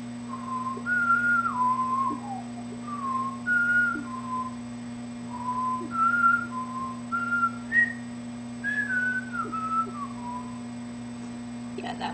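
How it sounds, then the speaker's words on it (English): A person whistles a meandering tune close by, clear single-note phrases rising and falling in short bursts over a steady electrical hum. "yeah, that was my whistling."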